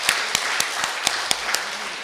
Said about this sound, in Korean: 우리 신부님께 다시 한번 감사의 박수 보내드리겠습니다